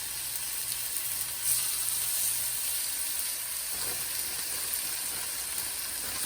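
Chicken thighs sizzle steadily in a hot frying pan, a constant crackling hiss that stays even throughout with no talking.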